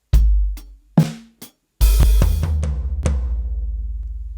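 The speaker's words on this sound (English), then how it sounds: "you hear the exact idea just with some extra bass drums there" Close, loud drum kit groove with thumping kick drum hits and a crash, then a busy fill of rapid bass drum strokes under ringing cymbal wash.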